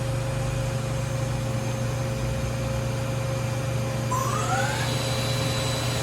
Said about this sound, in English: Spindle's currently running at 1500.